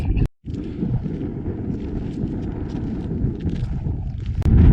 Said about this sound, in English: It is a little bit windy, but it does feel good.